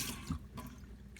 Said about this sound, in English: Lukewarm water. I get the brush wet,